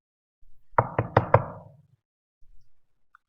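Four quick knocks on a door in a close, even rhythm, loud and distinct, followed by a faint thud and quiet.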